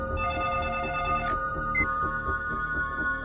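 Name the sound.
telephone ringing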